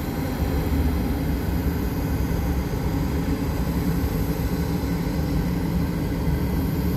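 A Batik Air jet takes off from the north end of runway 18 toward the south. Its engines make a steady, loud, broad roar throughout, with no pauses.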